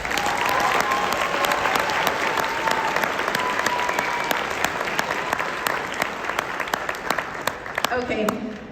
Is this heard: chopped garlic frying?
no